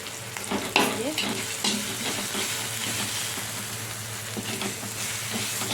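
Tomato and turmeric powder frying in a pan for dal, a steady close sizzle with stirring scrapes and a louder stir near the start, no talk.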